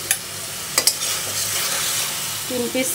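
Fish pieces and spices fry with a steady, close sizzle in a pan, broken by a few sharp clinks of a spoon against the metal as they are stirred, with no talking.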